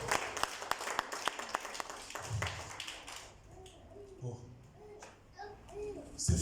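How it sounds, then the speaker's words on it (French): A church congregation applauding during a service, a burst of quick claps that thins out to scattered taps and murmured voices in the room. "Acclamons pour la gloire du Seigneur."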